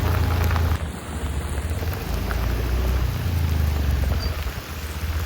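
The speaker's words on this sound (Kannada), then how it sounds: "ಇಷ್ಟು ಮಳೆ ಇಷ್ಟು ಜೋರಾಗಿ ಮಳೆ ಬರ್ತಾ ಇದೆ" Heavy rain pours steadily on a road at night, a dense close roar with spatter on surfaces, constant and loud throughout.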